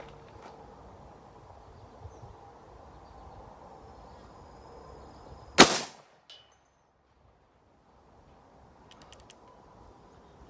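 A Remington 81 rifle loaded with Hornady rounds that are having feeding trouble fires one sharp, loud shot partway through, with a brief echo and quiet outdoor ambience before and after.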